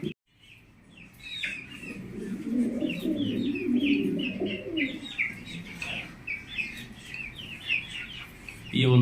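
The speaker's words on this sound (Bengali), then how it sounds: "এরকম সাদা একটা লাহোরি কবুতর" White Lahori pigeons with red eyes and red beaks coo steadily and close by, amid chirping from other birds, with a brief spoken word near the end.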